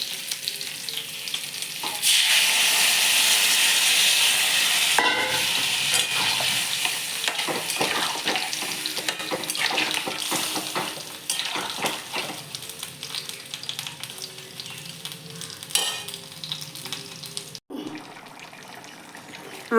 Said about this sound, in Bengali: মাছ 4 পিস দিয়ে দিলাম। এবার জল দিয়ে দেব।